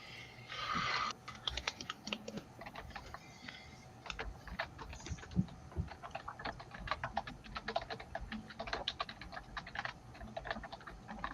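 A mechanical computer keyboard gives a steady stream of quick, faint clacking keystrokes that carries on without pause and with no voices.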